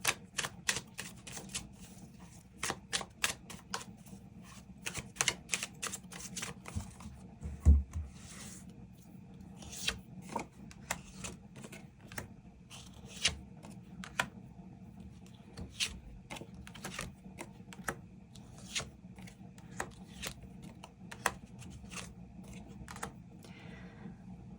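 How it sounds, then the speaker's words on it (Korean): Tarot cards are shuffled and drawn for a love reading, giving a run of quick, dry, close clicks and soft snaps, dense at first and then in sparser bursts, with no talking. "추가 카드 뽑아보도록 하겠습니다"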